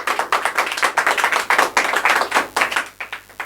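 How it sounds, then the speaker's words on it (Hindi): Audience at a school felicitation for intermediate exam results clapping loudly for a student, a steady run of sharp, close claps in a fast rhythm with no talking. "एक बार जोरदार ताली बजाइएगा अनुभव कुमार के लिए।"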